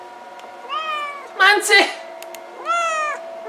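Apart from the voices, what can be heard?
cat meowing while stuck on top of fridge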